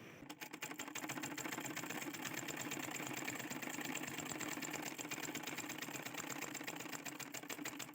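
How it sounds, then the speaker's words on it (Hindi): A sewing machine stitches a double-bowl blouse, a steady rapid clatter of needle strokes running continuously, close and fairly loud with no speech. "इसमें और एक बार सिलाई लगा दूंगी"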